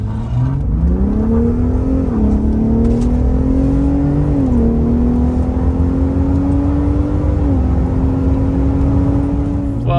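A Gen 3 Ford Raptor pickup truck engine with an aftermarket intake and turbo inlets revs and climbs in pitch as it accelerates, a loud, steady roar close by that rises in stages without any voices.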